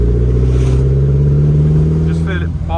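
A Lotus Elan restomod engine drones steadily at closed to quarter throttle while driving, with a strong low hum and a voice talking over it.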